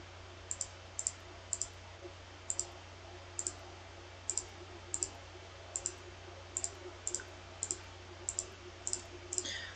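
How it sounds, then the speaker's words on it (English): A computer mouse clicks while a character is being randomized in Crusader Kings 3: crisp single clicks in a steady, slightly irregular series over a low constant hum. "Gotta be careful on the clicking, because if I click too much, I could lose it."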